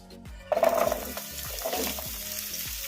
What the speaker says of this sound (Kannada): ಇವನ್ನ ಮೀಡಿಯಮ್ ಫ್ಲೇಮಲ್ಲಿ ಫ್ರೈ ಮಾಡ್ಕೋಬೇಕು